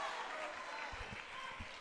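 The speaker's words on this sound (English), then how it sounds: "A good traveling crowd for the Lady Bulldogs to my left, cheering on this squad" A visiting volleyball crowd cheers and claps for the Lady Bulldogs during a high-school match, a broad wash of applause and voices heard from across a gym, with a few low thumps underneath.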